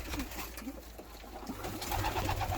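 Long face breed pigeons coo softly in a rooftop loft, their low, rolling calls repeating over a faint, steady background murmur.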